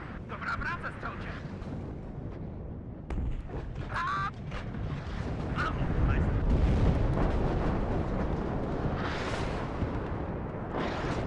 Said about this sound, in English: I got some mortar fire coming in